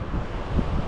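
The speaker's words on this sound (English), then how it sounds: "The waves coming in." Ocean waves roll onto the shore at Edisto Beach State Park, South Carolina, a near, steady rush and wash with wind buffeting the microphone, one swell building slightly toward the end.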